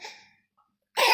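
A child gives a short throaty cough, a brief rough burst near the end after a faint breathy sound and a moment of quiet.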